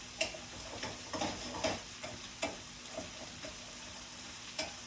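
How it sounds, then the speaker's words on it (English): A cup of rice toasting in fat with onions and garlic for risotto, with a soft continuous sizzle broken by regular stirring scrapes and light taps of the spoon against the pot. "Toast that rice a little bit."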